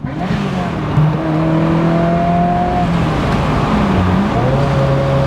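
Ferrari F355 engine with F1 transmission working through downshifts from fifth to fourth to third, a steady loud drone whose pitch steps and dips between gears, heard from inside the car.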